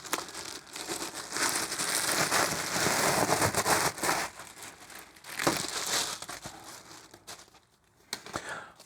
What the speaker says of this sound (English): I'm just really looking forward to using duct tape on ducting